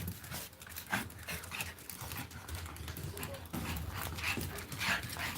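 Excited pet dogs pant steadily and fast at close range, the breathy rasps running continuously with faint whimpers and shuffling in between.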